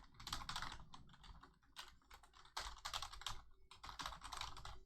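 Someone types on a computer keyboard, quick clusters of soft key clicks coming in bursts with short pauses between them, faint and close, with no voices.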